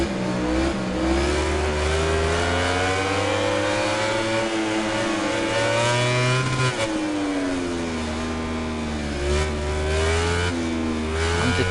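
A racing motorcycle engine from the MotoGP 19 game screams continuously at high revs, the pitch rising and falling through gear changes along a straight, loud and steady with no voices.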